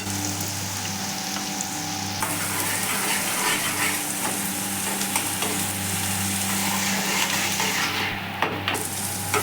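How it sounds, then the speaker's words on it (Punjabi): Onions frying lightly in a pan with crushed green chilies, a steady close sizzle with occasional stirring scrapes, no voices. "ਪਿਆਜ਼ ਆਪਾਂ ਨੇ ਜ਼ਿਆਦਾ ਨਹੀਂ ਭੁੰਨਣੇ ਹੈਗੇ ਕਿਉਂਕਿ ਪਰਥੇ ਵਿੱਚ ਪਿਆਜ਼ ਜ਼ਿਆਦਾ ਜੜੇ ਹੋਏ ਚੰਗੇ ਨਹੀਂ ਲੱਗਦੇ ਬਸ ਆਪਾਂ ਹਲਕੇ ਗੁਲਾਬੀ ਕਰਾਂਗੇ ਪਿਆਜ਼ਾਂ ਨੂੰ"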